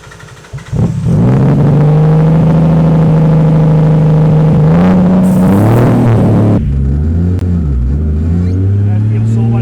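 A Nissan Skyline R33 engine, fitted with new iridium plugs and coil packs, revs loudly up close, climbing in pitch and holding before easing back, with someone talking over it.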